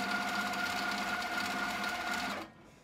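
A mid-arm quilting machine stitches a quilt in a continuous, fast, whirring run with a steady mechanical tone. It is close and fairly loud, then stops abruptly near the end.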